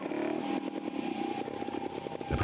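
A Vertigo 300 trial motorcycle engine works steadily as the bike climbs a rock section in a trial event, a continuous mid-pitched motor drone with rapid throttle pulses and some clatter, close and loud throughout.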